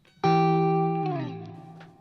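Sustained electric guitar note through a CKK Infinite reverb pedal with the damping knob turned clockwise for a darker tone, struck once, held steady, then sagging in pitch and fading into a smooth reverb tail.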